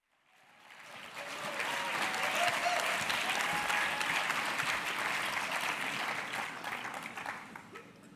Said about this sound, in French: je vous remercie pour vos chaleureux applaudissements